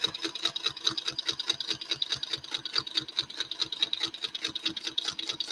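A sewing machine stitches through a quilt with a fast, even, rapid-fire needle clatter and motor hum, close and steady throughout, with no talking.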